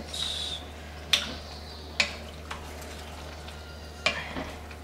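Sugar snap peas and carrots frying in a pan for pancit canton give off a steady low sizzle, with a few sharp clicks of stirring and utensil taps standing out above it.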